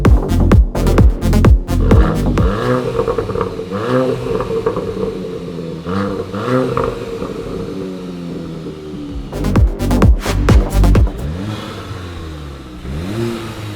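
A Volkswagen Golf GTI fitted with a Borla S-Type cat-back exhaust and an AFE Stage 2 air intake revs repeatedly up and down, loud and close, the exhaust note rising and falling in surges.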